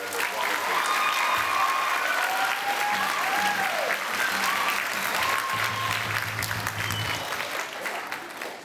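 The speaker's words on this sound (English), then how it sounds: "So one more round of applause for everybody." An audience at an evening middle school jazz band concert applauds steadily and fairly loudly for several seconds, fading slightly at the end, with a few voices mixed into the clapping.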